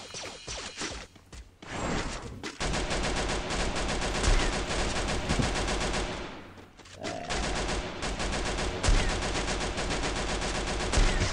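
Gunfire in the video game Free Fire: dense, nearly continuous rapid automatic shots crackle loudly throughout, with a brief lull near the middle.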